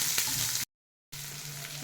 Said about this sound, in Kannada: ಒಂದು ಸಣ್ಣ ಈರುಳ್ಳಿ, ಇದು ಸ್ವಲ್ಪ ಫ್ರೈ ಮಾಡಿ.